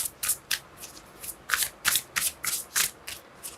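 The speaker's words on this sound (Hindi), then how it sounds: "one more shuffle" Tarot cards are shuffled by hand in a quick run of crisp riffling bursts, about a dozen in steady rhythm, close and clear with no talk.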